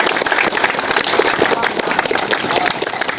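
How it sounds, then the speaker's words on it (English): An audience gives a loud round of applause for hosts at a community gathering, dense and continuous clapping close up for the whole stretch with no pauses. "let's give these guys a huge round of applause"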